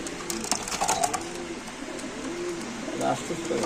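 Racer pigeons coo at a pigeon sale, soft repeated throaty coos heard close by while someone talks over them.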